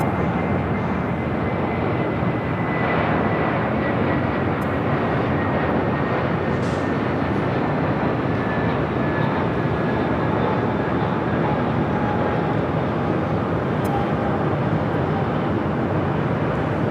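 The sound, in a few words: American Airlines Airbus A321 arriving from Dallas Fort Worth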